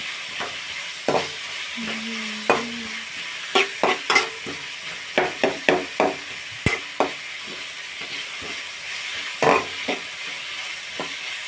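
Onions sautéing in a pan for chicken curry, with a steady low sizzle broken by sharp spoon scrapes and clacks in irregular bursts, close and fairly loud, no talking.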